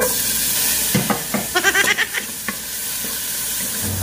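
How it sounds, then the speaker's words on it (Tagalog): Garlic goes into hot oil and fries with a steady, close sizzling hiss, with a few brief scraping stirs partway through. "Dahil nga mayit na yung ating mantika, ilalagay na natin yung bawang."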